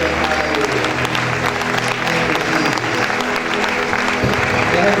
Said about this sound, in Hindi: उसके नाम पर हमें केवल उस परमेश्वर के लिए तालियां बजाने की जरूरत है